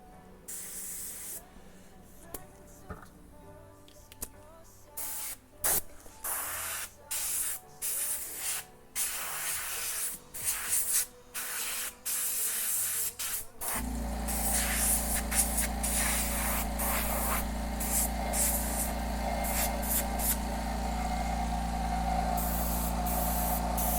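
A steady, loud hiss of an airbrush spraying paint onto pants starts partway through and continues unbroken to the end, after a stretch of scattered clicks and handling noises.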